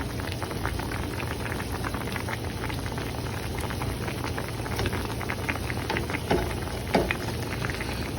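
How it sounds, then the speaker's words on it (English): Brussels sprouts boiling in a pot of water, a steady low bubbling and churning wash with scattered small pops, continuous and fairly close throughout. "So we have about 5 more minutes for them to boil."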